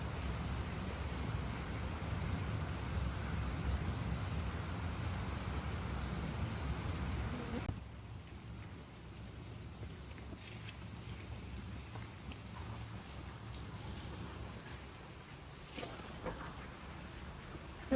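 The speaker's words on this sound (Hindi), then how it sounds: "1 घंटा हो गया मुसलसल लगातार बारिश जो है वो बरस रही है" Heavy, continuous rain pours steadily for an hour on a rainy afternoon, a dense, loud hiss that drops slightly partway through; no distinct thunder stands out.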